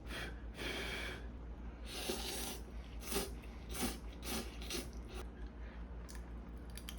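Premium ramen with shrimp-flavored konjac jelly being eaten: close slurps, bites and chewing noises come in bursts against steady background hum, with no talking.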